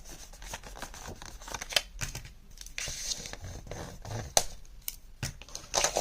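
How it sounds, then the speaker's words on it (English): Paper being scored at half an inch along the 5-inch side of a 6x6 sheet, with scraping strokes and small clicks of the tool repeating irregularly, close and fairly quiet, with no talking. "along the 5-inch side, I'm scoring at half an inch"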